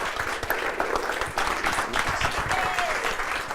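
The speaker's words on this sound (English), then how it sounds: "everybody on your feet, and let's give a warm welcome to the stage, Terry Levine." Audience applause at an event as a speaker is welcomed to the stage, moderately loud scattered clapping from a standing crowd, with some voices mixed in.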